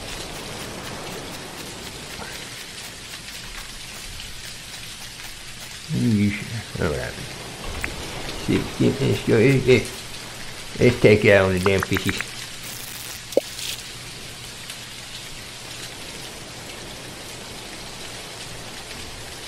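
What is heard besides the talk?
rain falling in the video game Dinkum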